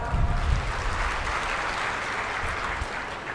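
An audience at a Gujarati folk-literature stage program claps in a dense, steady burst of applause that fills the space evenly and continuously, with no one talking over it.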